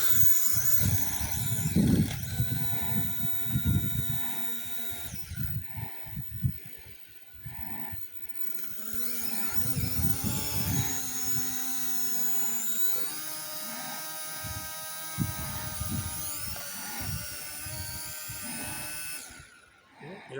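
A Chinese-made drone flies close by, its motors giving a rising and falling high-pitched whine and buzz, with people talking over the first part.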